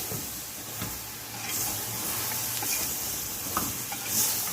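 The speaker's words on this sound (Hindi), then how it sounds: "बैंगन डाल के ना हमने इसे थोड़ा भूनना है" Eggplant frying in a hot pan gives a steady, moderate sizzle and hiss with a few faint stirring scrapes, continuous and close, with no talking.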